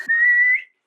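A person whistles a single short steady note, close and clear, cutting off after about half a second.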